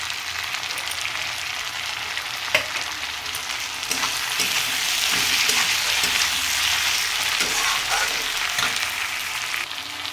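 Onion paste sizzles and fries steadily in a pan for a mullo greens and fish-head ghonto, a dense continuous crackle with occasional stirring scrapes, fairly close and without talk.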